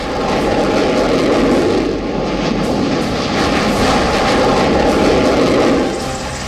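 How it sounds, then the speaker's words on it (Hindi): A Rafale fighter jet's engines give a loud, continuous roar that stays steady and close throughout, with no talking. "फ्रांस से भारत को मिला लड़ाकू विमान रफाल हो"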